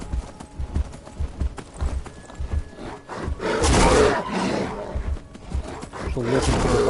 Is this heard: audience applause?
no